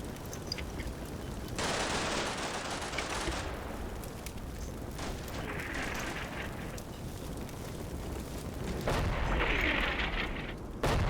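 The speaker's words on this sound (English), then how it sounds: "That was artillery. An artillery shell landed directly onto their position." An artillery shell explodes in the Combat Mission Black Sea war game: a loud, broad blast roars in around the second mark, followed by rumbling battle noise and a second burst near the end, with no voices.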